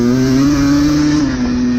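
A motocross bike running laps on a dirt track, its engine droning steadily and loud with a strong, sustained harmonic whine that dips slightly near the end, no voices.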